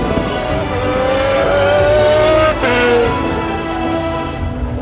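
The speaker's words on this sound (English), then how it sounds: "Certainly the 91 GTO RX-7, it gives you chills just to hear it run." A 1991 Mazda RX-7 GTO race car engine runs loud and close, a steady rising drone that climbs in pitch, dips briefly near the three-second mark and then settles on a lower sustained tone, with no talk.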